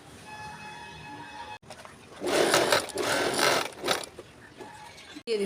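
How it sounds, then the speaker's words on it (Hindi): Sewing machine stitching the seams of a gent's pajama, a steady mechanical whir that starts after a brief pause and runs continuously, fairly close and moderately loud. "उसके बाद इस तरह से स्टिचिंग करें"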